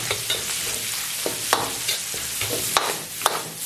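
Garlic stalks hiss and sizzle in red chili oil in a wok while a spatula scrapes and clacks against the metal in irregular strokes, close and steady.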